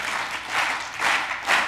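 Lecture-hall audience clapping together on instruction, a dense wash of hand claps swelling in three loose pulses as the rhythm tries to settle into unison, no voices.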